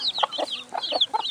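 Mother hens cluck softly with their chicks outside a backyard coop, a run of short repeated bird calls heard close with no talking.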